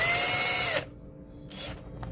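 A power drill drives set screws into an electrical box during a combo switch and two-gang outlet installation, whirring loudly for under a second, then stopping, with a short, softer second spin after it.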